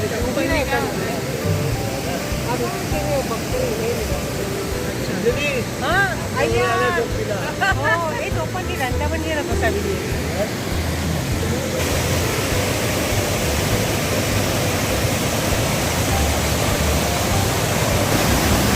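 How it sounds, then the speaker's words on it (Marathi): The Pali waterfall in monsoon pours with a steady, dense roar close by, loud and unbroken throughout, while a voice and other people talk over it for a stretch. "बघा धबधब्याच्या वरती मी उभी आहे आता इथून सुंदर प्रकारे वाहतोय"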